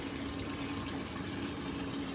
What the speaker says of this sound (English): press the deep fill option more because to me it needs more water. It's gonna give more water